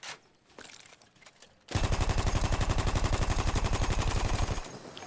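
A Parabellum machine gun from Battlefield 1 fires one sustained automatic burst of about three seconds, a loud, rapid and evenly spaced stream of heavy shots that starts abruptly after quieter game ambience.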